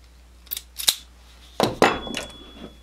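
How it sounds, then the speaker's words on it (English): Hand tools cut and strip electrical wire while a double duplex outlet is being wired, giving a few crisp snips and clicks in two quick pairs. The sounds are close and fairly loud against a quiet background. "We will feed about 4 inches through, cut that, and then strip about an inch off the other end."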